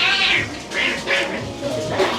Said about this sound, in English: What's going on with this cat?